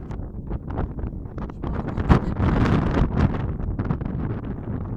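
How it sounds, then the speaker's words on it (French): Gusty outdoor wind buffeting a microphone, a steady low rumbling roar that swells and dips for several seconds with a sharper gust near the middle, heard alone without talk. "Pardon, il y a du vent."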